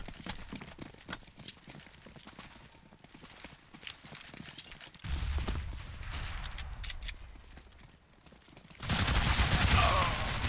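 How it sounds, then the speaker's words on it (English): Gunfire during a Counter-Strike match on the Train map, scattered sharp shots and a louder burst of firing toward the end, mixed with footsteps and game ambience. "Good shot from Shinobi, able to figure out who he wanted to shoot at."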